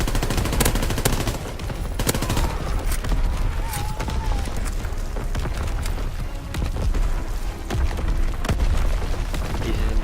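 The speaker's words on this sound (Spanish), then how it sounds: "Artillería enemiga." Heavy gunfire and booming blasts from enemy artillery in the World War II shooter Call of Duty WWII, a dense continuous barrage of sharp cracks and thuds with no quiet gaps.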